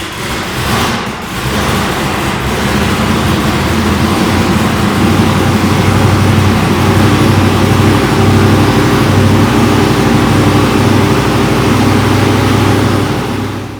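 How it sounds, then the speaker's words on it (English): A 2018 COPO Camaro factory drag racer cranks and fires up, then settles into a loud, deep, steady rumbling idle heard up close with no talking. "Now let's go ahead and start this thing up and hear what it sounds like."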